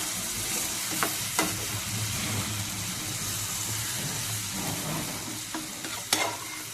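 Cooked dal and onion are stirred gently in a pan with a soft steady sizzle and occasional light scrapes and taps of the spoon, close and fairly quiet, with no speech.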